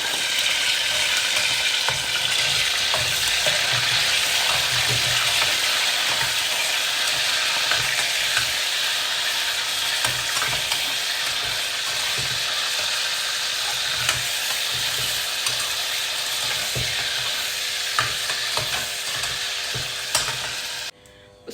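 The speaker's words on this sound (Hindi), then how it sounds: "अब इसी घी के अंदर मैं ये बोनलेस चिकन की 2-4 बोटियाँ डाल रही हूँ।" Boneless chicken pieces fry in hot ghee, giving a steady, loud, continuous sizzle with occasional stirring scrapes and clinks running throughout, without any voices.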